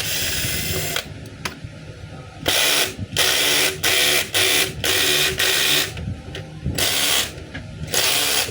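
Screws being worked loose on a DeWalt D25811 5 kg jack hammer, heard as repeated close ratcheting, clicking bursts in short irregular runs with brief pauses between them.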